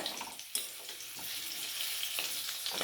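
Potatoes fry in hot oil for a chicken curry, a faint, steady hiss of sizzling with a couple of sharp pops and crackles breaking through.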